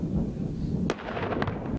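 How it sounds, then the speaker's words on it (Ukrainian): Explosions at a bomb-disposal training ground of an internal affairs university, heavy booming blasts with sharp cracks, one around the middle and another near the end, loud amid rumbling outdoor noise. "На полігоні місцевого університету внутрішніх справ з різних боків лунають вибухи."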